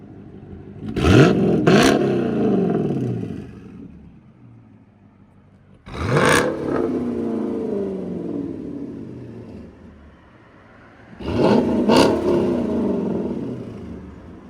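A supercharged Dodge Charger R/T with a Corsa Xtreme exhaust revs three times, each loud blip rising sharply and then settling back into a deep idling rumble before the next, with no talking.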